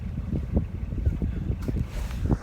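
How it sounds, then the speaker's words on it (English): Sailboat engine running while motoring through fog, a steady low throbbing rumble with rhythmic pulses, mixed with wind buffeting the microphone. "Engine's running."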